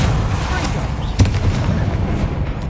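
A Bombarda explosion spell in Hogwarts Legacy goes off as a loud, close, rumbling blast with a sharp boom in the middle, then a sustained heavy roar and crackle throughout.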